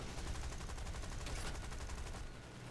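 Aircraft machine guns firing in a War Thunder air battle during a squadron mission, a dense continuous rattling burst that holds steady and loud for nearly the whole moment before easing slightly at the end, with no talk over it.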